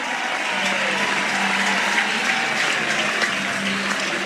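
Near sellout crowd of about 2,300 at a college softball stadium, UCLA versus Oregon, buzzing with sustained applause and cheering, a broad steady wash of noise at moderate loudness without breaks.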